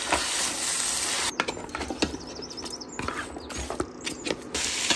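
Lamb shank searing and frying in a pan with a steady, close hiss and sizzle. Scattered clicks and metallic scrapes from stirring come and go, with no talk.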